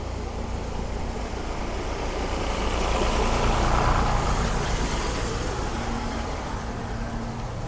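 Street cleaning truck made at the Minsk automobile plant rumbles past on a city street, a low engine drone swelling louder mid-way and then easing off, with steady traffic noise around it.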